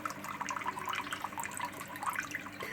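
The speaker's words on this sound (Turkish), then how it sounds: "Ben akvaryuma hava motoru borusuyla suyu ekliyorum." Water trickles steadily into an aquarium through thin air pump tubing, a continuous close-up splashing and dripping with no pauses and no voices.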